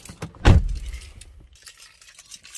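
Car keys jangle up close as someone climbs into a 2003 Infiniti I35, a sharp metallic rattle near the start fading into softer clinks and faint shuffling.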